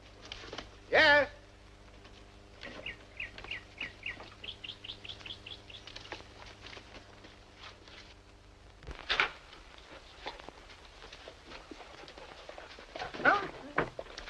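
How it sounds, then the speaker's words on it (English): A dog barks loudly once up close, then whimpers and yips in a quick run of short repeated cries, followed by another bark and scattered light rustling in an interior scene from the 1948 film noir Moonrise. "Look at Mr. Dog. No manners. No manners at all."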